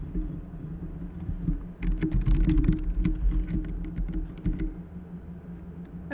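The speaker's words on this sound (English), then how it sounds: "If you hear my keyboard typing, ignore it." A computer keyboard clatters in quick bursts of key presses, close and moderately loud over a low background hum, pausing briefly between flurries of typing.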